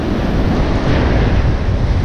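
Rough sea waves surge up a Jamaican shoreline during shore fishing, a continuous loud wash of surf blended with wind buffeting the microphone.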